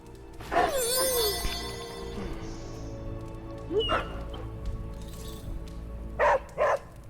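A dog in Midnight Suns gives a whining, yelping bark near the start, then a few shorter yips and whimpers follow later, with quieter gaps between the bursts.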